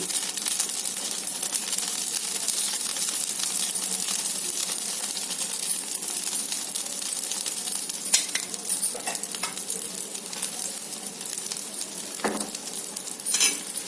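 Ghee heats in a pan with a steady, close, loud sizzle and frying crackle that runs unbroken throughout, with a few faint clinks over it.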